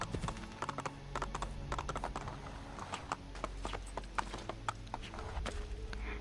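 A white horse's hooves clip-clop in a steady trotting rhythm in the Assassin's Creed 2 video game, crisp and close over a low ambient game background.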